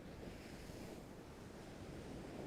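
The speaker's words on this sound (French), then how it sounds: "Vous pouvez commencer à entendre le bruit des vagues au loin" Ocean waves wash continuously with a steady, even surf roar, muffled as if heard from some distance, with no voices.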